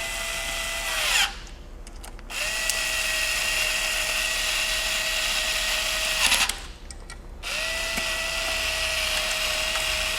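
A power tool whines steadily while tightening the engine block main bearing bolts on a 1999 Cadillac Seville STS during a mechanical restoration, with two brief pauses between long sustained runs.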